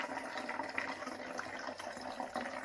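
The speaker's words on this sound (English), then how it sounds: "so the water passes through the filter." A Sawyer Squeeze filter passing water pushed from a Mylar bag on the Appalachian Trail gives a continuous soft trickling hiss, close and fairly even, with small swells.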